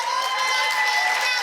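Audience applause and cheering at a conference closing ceremony, a steady dense wash of clapping from a crowd filling the hall, with voices mixed in throughout.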